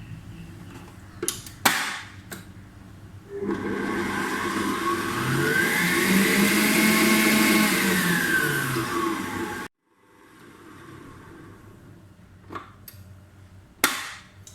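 An electric mixer beats eggless cupcake batter with brown sugar, a loud whining motor run lasting several seconds whose pitch rises and falls, framed by sharp knocks and clatter before and after.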